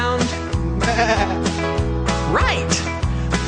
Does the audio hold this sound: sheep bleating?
yes